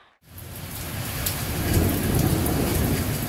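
Heavy thunderstorm downpour with rolling thunder, starting after a brief silent moment and building into a loud, steady roar of rain and rumbling, with no voices.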